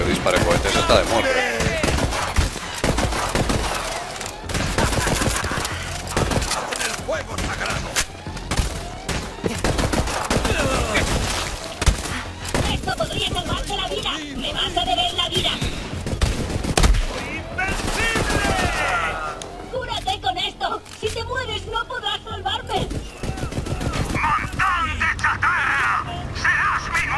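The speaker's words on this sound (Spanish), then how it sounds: "Esto de lo que dispare cohetes está de muerte" Rapid gunfire and explosive rocket launcher blasts in the video game Borderlands 3 come in dense bursts, loud and chaotic, with intermittent pauses and shouting voices.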